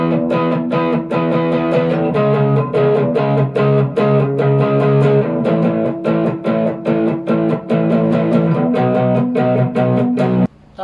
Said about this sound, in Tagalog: Pangalawang effects na gamit ko, overdrive.